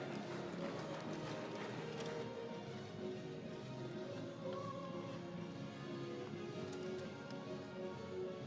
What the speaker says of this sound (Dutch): Moedig die paarden maar even aan.